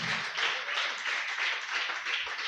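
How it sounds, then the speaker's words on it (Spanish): A church congregation claps during a Spanish-language sermon, giving dense, uneven applause that swells and dips in waves throughout, with no talking over it. "Damos un aplauso al Rey de Reyes."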